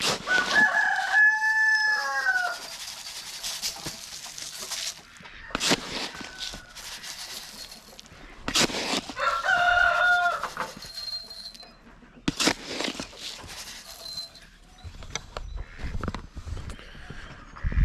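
Roosters crow loudly and repeatedly up close, with hens clucking and rustling and scattered bumps in between.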